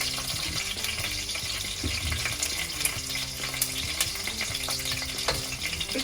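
Whole black pepper, cloves and cardamom frying in hot oil in a home kitchen, a steady loud sizzle with crackles and occasional stirring clinks, no voices.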